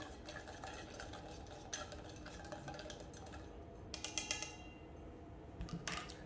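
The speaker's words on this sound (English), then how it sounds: "stir until completely dissolved" Crushed ice stirred into water in a container, giving a faint, continuous clinking and swishing with occasional sharper taps against the sides, heard alone.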